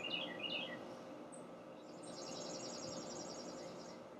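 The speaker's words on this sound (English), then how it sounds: "I know you can hear the birds in the background because I'm actually recording outside." Birds chirp faintly outdoors in the background, with a few short high calls early on, then a longer trilling run, distant and quiet with no talk.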